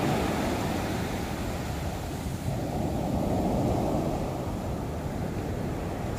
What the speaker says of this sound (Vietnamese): Sóng mà đánh lên tới đây luôn này mọi người.